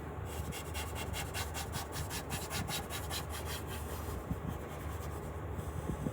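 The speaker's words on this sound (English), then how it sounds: "I'll often come in here and just kind of scrape that up" A tool scrapes up residue inside a Morpho UV printer, giving a close, continuous rough scraping and rubbing noise with a rhythmic back-and-forth texture over a steady low hum, and no talking.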